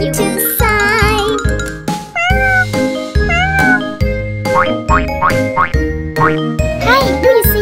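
Sung cat meows from a nursery rhyme about three little kittens, with a voice imitating a kitten's meow in a bright, repeated melodic pattern over loud music with tinkling accents.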